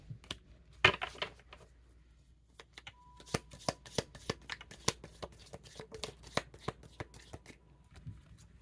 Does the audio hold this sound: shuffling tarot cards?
yes